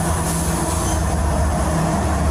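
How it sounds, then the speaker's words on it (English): A train rolls steadily past nearby, loud and continuous, with rumbling wheels and rail noise and no voices over it. "We'll wait till the train passes."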